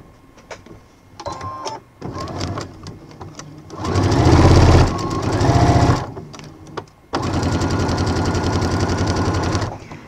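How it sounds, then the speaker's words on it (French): Domestic sewing machine stitching a bias binding onto fabric, running in close, loud bursts of rapid mechanical chatter: short stops and starts, then two sustained runs and a long steady final stretch. "On coud d'abord cette partie-là"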